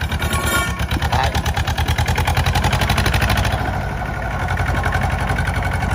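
A Mitsubishi 2500 tractor engine idling nearby, a loud, steady, rapid diesel chug with an even mechanical knock that holds throughout, alone without talk.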